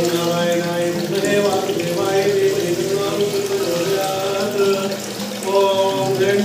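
Floodwater from the river pours into and around the Sangameshwaram temple in the Nallamala forest, a steady, dense rush of water that runs unbroken throughout, with a sustained tonal layer over it.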